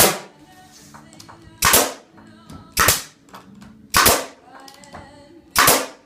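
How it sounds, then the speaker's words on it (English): A tool dry-fired again and again on a frame assembly jig, giving four sharp, loud snaps at uneven intervals of roughly one to one and a half seconds, with quieter clicks and shop noise between them. "Here, doing those dry fires."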